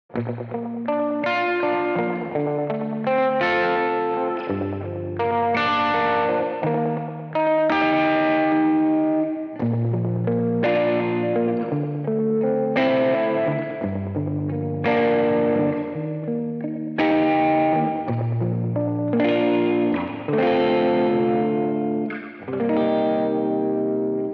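A plucked, slap-style guitar riff drenched in chorus and distortion effects, with rhythmic repeated chords and notes ringing out loudly and continuously, no voices.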